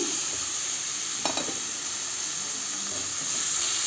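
Steady loud sizzle of masala and tomatoes frying in a pan, continuous hiss with a brief stirring scrape partway through.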